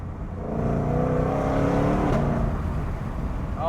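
A 2022 Shelby GT500 engine revs hard in a tunnel, a loud sustained roar that builds, holds and eases slightly, echoing with no voices.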